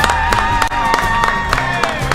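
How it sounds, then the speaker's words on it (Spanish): A studio audience applauds a guest on an Argentine talk show, with clapping and some cheering over a tonal musical backing, loud and sustained. "Un aplauso para ella."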